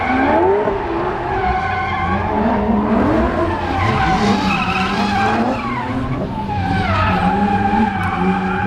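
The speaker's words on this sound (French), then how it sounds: "Autour de Michel Dittmarsh avec cette M3 moteur 3 litres de 300 chevaux." A BMW M3 with a 3-litre, 300-horsepower engine drifting at a motor show, tires squealing continuously as the engine revs and wails up and down, loud and close throughout.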